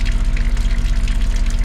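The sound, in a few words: pump draining water from a boat's water tank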